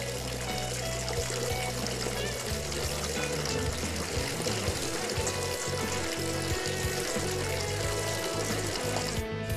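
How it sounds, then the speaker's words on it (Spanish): Water from a village fountain in Ávila splashes and trickles continuously, a steady close wash of falling water with no voices. "El sonido de la fuente nos ofrece tonos relajantes"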